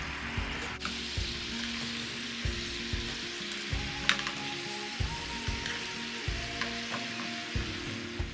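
Bok choy frying in a pan for garlic bok choy, a steady soft sizzle with faint crackles throughout, close and moderately quiet with no talking.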